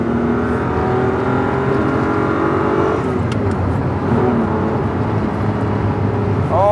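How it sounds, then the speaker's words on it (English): The flat-12 engine of a 1984 Ferrari 512BBi revs and pulls hard from inside the car, a loud, steady multi-harmonic howl with a shift near the midpoint, under some talk. "Nothing beats a classic 12-cylinder Italian sound."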